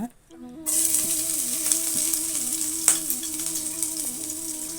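Finely chopped garlic hits hot oil in a pan and sizzles with a sudden bright hiss that settles into a steady fry for chicken egg fried rice, while music plays quietly underneath.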